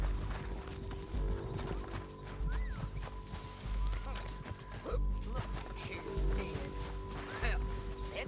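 Rhythmic hoof clip-clops of horses trotting in Red Dead Redemption 2, with occasional whinnies and scattered game sound effects, while people talk over it.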